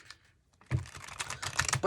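Tarot cards are shuffled by hand, giving a quick burst of dense, papery flicking and clicking that starts after a brief pause and runs on closely. A faint voice can be heard at the start.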